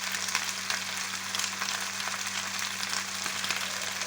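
Chopped onion and garlic fry in a pan with a dense, even sizzle that holds at a constant level for the whole stretch, close and unbroken, with no voices.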